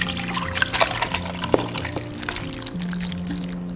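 Soaked winter melon and its water are poured into a stew pot, giving a close, continuous splashing trickle with a few brief clinks, no talk.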